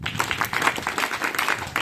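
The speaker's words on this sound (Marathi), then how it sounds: "गुड, शाबास, टाळ्या." Students in a secondary school classroom clap together in a brief burst of quick, uneven applause, close and fairly loud.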